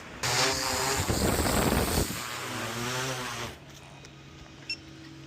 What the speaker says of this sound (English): Abby, bring the drone in.